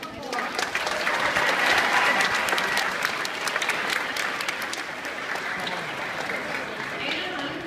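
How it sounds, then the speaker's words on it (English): Sustained applause from an audience at the Chandler-Gilbert math competition, a dense, steady patter of many hands clapping that runs loud and unbroken throughout, easing only slightly toward the end. "So give yourselves a round of applause."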